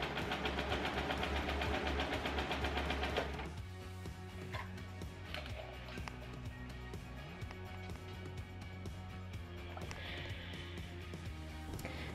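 A sewing machine stitches a fabric seam on a skirt waistband. A steady close motor whir runs louder for the first few seconds, then continues more softly.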